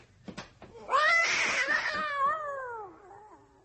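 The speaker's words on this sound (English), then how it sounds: "What the hell was that? Saladin. That bloody cat." A cat yowling indoors in a long, wavering, rising and falling wail lasting a few seconds, loud and close, preceded by a few short knocks.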